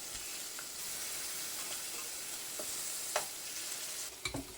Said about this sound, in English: While your meat's searing